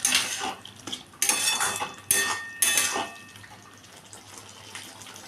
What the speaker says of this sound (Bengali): মশলার মধ্যে আমি এই ভেজে রাখা আলুগুলোকেও দিয়ে দিলাম।